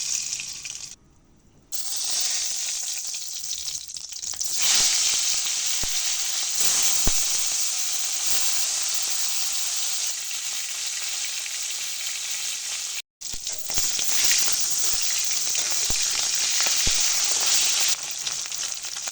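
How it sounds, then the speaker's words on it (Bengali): Fish heads, hilsa, frying in mustard oil with turmeric and salt, giving a loud steady sizzle that runs throughout, with brief breaks and occasional stirring and water sounds, no talking. "মাছের মাথাগুলো আমার খুব ভালো করে ভাজা হয়ে গেছে।"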